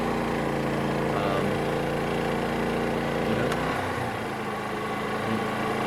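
A Harbor Freight Predator generator running under a heavy electrical load: a steady, loud engine drone that shifts pitch and dips briefly partway through as the load changes, then settles back into a constant hum.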